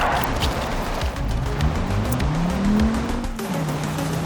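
An Audi in the BeamNG.drive video game drifts with a loud engine roar and tires squealing in long, sliding pitch sweeps, continuous and close, with no one talking.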